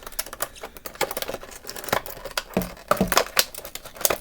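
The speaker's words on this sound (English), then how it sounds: "I'm going to use my Turtles of Grayskull scissors" Scissors snip and crinkle through plastic toy packaging for a Masters of the Universe Turtles of Grayskull figure, a run of quick, close, uneven cuts and rustles without speech.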